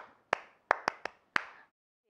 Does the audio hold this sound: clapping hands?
yes